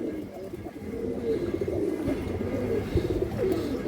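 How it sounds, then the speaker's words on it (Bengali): A female pigeon with red-grained ringed eyes coos in a low, steady, continuous murmur close by, with faint background voices underneath. "এই যে কবুতরটা দেখেন দর্শক, এটা মাদি কবুতর।"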